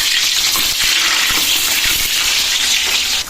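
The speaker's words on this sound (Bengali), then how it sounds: "এরপরে ফ্রাই করব বন্ধুরা। চেষ্টা করতে হবে একটু বেশি পরিমাণে তেল দেওয়ার জন্য।" French fries frying in plenty of oil: a loud, dense, bubbling sizzle close up with a few soft knocks as pieces are moved, steady throughout with no talking.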